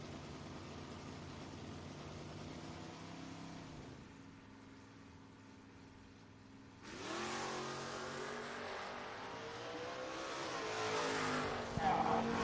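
Drag racing cars at a footbrake event, including a Mustang in the right lane, roar steadily, dip briefly, then surge loud with a sharp rising rev as they launch, staying strong to the end.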